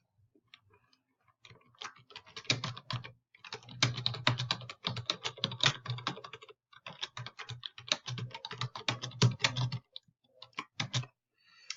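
Computer keyboard typing while a question is entered into a Google Forms document, quick clattering keystrokes coming in bursts with short pauses, close and fairly quiet, no voices.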